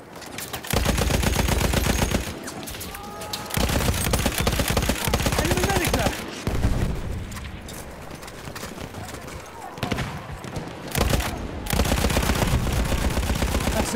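Lewis gun machine gun firing in a World War I shooter on the Suez map, loud sustained automatic bursts broken by short pauses, with game voices barking in the background.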